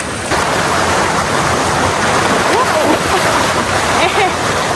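Clear river water rushes and splashes steadily during a river crossing on a jungle hiking trail near a waterfall, a loud, continuous broadband wash with a faint voice briefly underneath.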